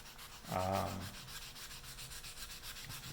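A short burst of hand wet sanding on a finish, then a softer, steady scraping that continues close by with no talking.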